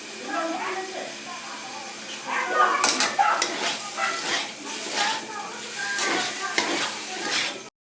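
Vegetables with tomato, garlic, onion and a little vegetable spice mix stir-frying in a pan for a soybean curry, with scraping and stirring strokes over a steady sizzle, and brief voices in the background.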